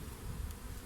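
A dense, steady buzz of many honeybees at a hive hums continuously, close and fairly loud, with no other sounds.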